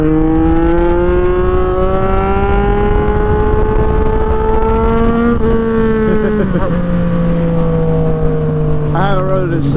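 A Yamaha MT-09 motorcycle pulls hard up through the gears, its loud, close engine note rising steadily in pitch, dropping at a shift and climbing again as it accelerates away.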